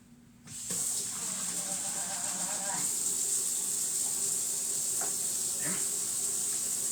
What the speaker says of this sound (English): Hold on a second while I wash my hands.